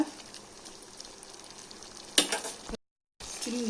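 Chicken tossed with spice powders sizzles and scrapes in a hot pan for a spicy chicken gravy, a steady stirring fry broken by a sharp louder burst and a brief silence before the frying resumes.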